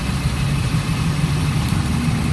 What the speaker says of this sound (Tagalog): Naging okay na yung andar nung makina natin tahimik na siya ulit